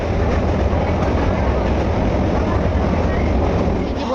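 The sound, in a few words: train running, heard from inside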